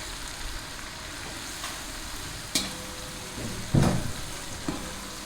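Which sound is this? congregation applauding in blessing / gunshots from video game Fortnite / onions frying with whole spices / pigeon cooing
onions frying with whole spices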